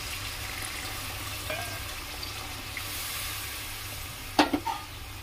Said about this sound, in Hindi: अब हम इसमें थोड़ा सा पानी डालेंगे, ऐड करेंगे ग्रेवी के लिए